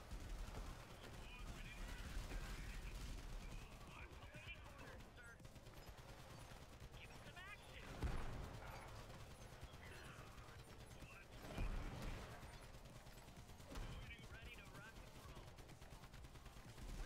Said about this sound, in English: Why is it making the gunshot noise?